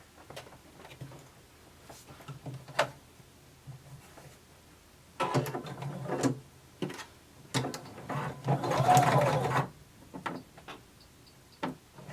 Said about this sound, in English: we're going to sew from our notch all the way up to the top of our collar